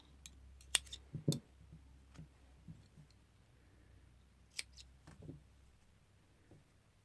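Scissors snipping yarn while making a crocheted daisy pom-pom flower, a few sharp close clicks and cuts scattered across a quiet room with small handling noises.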